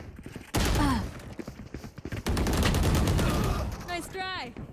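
Dense bursts of rapid video game gunfire fill most of the span, with a short pause in the middle. Sweeping electronic tones and chirps from the game sit over the shooting.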